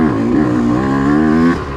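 A Yamaha YZ125 or YZ250F dirt bike engine on a trail, a loud close steady buzzing drone with slight pitch rises as the throttle shifts, then easing off at the end.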